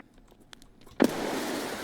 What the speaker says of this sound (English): They threw a nade. They proceeded to throw a nade.